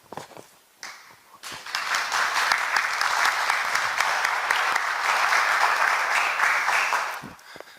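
Audience applause at a public talk as a speaker takes the stage: steady, full clapping from a seated crowd rising quickly and holding for about six seconds before tapering off.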